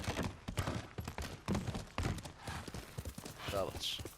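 A horse's hooves clip-clop in the video game Ghost of Tsushima, a steady trotting rhythm of soft thuds, with someone talking over the hoofbeats.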